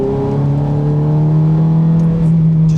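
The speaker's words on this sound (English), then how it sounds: "just put my foot down and hear that exhaust and engine tone" A Ferrari F430 on a twisty road pulls hard under acceleration, a loud, close, continuous engine and exhaust drone whose pitch climbs steadily.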